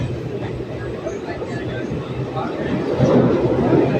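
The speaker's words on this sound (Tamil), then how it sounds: "ட்ரெயின் இன்னைக்கு ரொம்பவுமே ஃபாஸ்ட்டாக போகுது." A fast train rumbles over a bridge, a dense steady roar that swells louder toward the end, with people talking faintly underneath.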